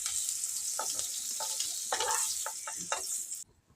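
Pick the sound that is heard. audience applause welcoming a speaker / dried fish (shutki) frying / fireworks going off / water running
dried fish (shutki) frying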